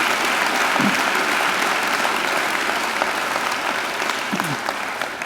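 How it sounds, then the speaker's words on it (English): Full, steady applause from a graduation ceremony audience greeting a singer, many hands clapping together at an even level throughout before easing slightly at the end, with faint voices beneath. "I think she deserves another great round of applause."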